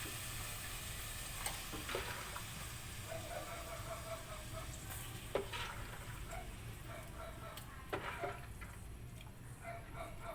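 Squid sizzling steadily in a hot pan for adobong pusit, a continuous low frying hiss with a few faint clinks and pops, no talking over it.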